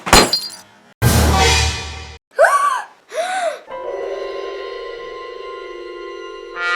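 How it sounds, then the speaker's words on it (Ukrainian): A laptop screen breaks with a sharp crash, then a longer crunching burst, followed by two loud gasps and a sustained electronic tone. "Розбили екран."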